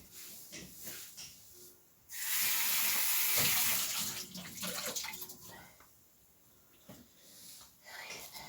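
Tap water gushes loudly into a sink for a few seconds, then eases to a softer trickle with faint clinks and rubbing of dishes during dishwashing.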